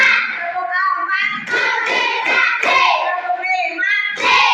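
A group of children claps hands in a counted rhythm while their voices chant the counts, the soft claps falling in time under the loud, sing-song chanting.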